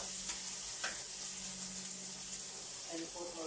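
Chicken adobo sizzles faintly in a pan while being stirred, giving a low steady hiss with a few soft scraping clicks from the spoon. No one speaks.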